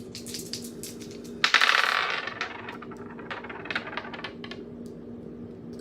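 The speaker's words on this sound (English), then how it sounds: "can I just put some dice on that?" Dice thrown onto a table for a reading, landing with a sudden clatter and a scatter of small rattling clicks that taper off, with light tapping afterward in a quiet room.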